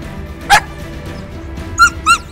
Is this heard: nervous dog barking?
yes